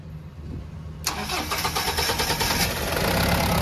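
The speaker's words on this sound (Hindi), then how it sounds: "तो देख सकते हैं गाड़ी स्टार्ट हो गई" Mahindra Bolero BS4 engine catching after a second of quieter cranking, then settling into a loud, steady mid-pitched diesel run close by.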